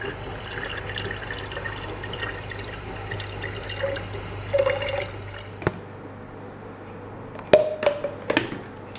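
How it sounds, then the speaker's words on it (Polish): Water poured into a drinking bottle, a soft continuous trickle and splash running steadily with a few small clinks and drips toward the end, close and fairly quiet. "Ok, szybki test na wodę. Wlejmy tę wodę."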